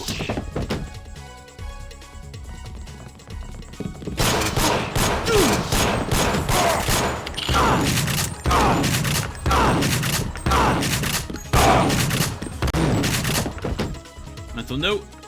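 Rapid bursts of gunfire from rubber bullets striking riot gear in Deus Ex, loud and repeated in quick volleys after a quiet opening, with voices talking over the shooting.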